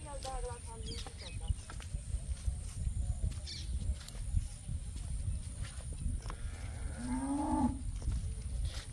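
A Sahiwal cross cow moos once, a low drawn-out call, over steady background rumble and faint farmyard noise.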